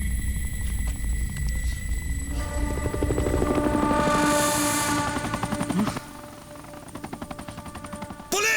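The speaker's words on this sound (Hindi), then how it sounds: "police helicopter" Police helicopter in an action film scene, rotor thrum and whine sweeping overhead amid layered mechanical noise, fading in level partway through with rhythmic chopping continuing.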